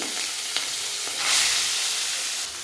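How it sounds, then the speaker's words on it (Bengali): Katla fish pieces sizzle and fry steadily in hot oil in a wok, a loud continuous crackling hiss that swells briefly as more pieces go in, with faint clinks and no talking. "আমি মাছটা এখন এক এক করে কড়াইতে দিয়ে দেব।"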